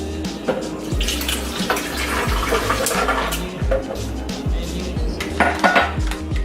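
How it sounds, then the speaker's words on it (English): Water poured over ice in a Ninja blender jar, a steady close splash with clinking of ice and hard container sounds throughout. "And then I'm going to add about a cup of water."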